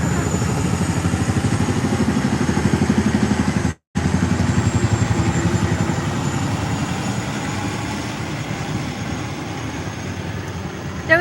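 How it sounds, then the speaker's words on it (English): An airplane flying directly overhead, heard as a steady, loud, broad rumbling roar that fills the whole stretch, broken only by one brief dropout near the middle. "there's like an airplane right over my head"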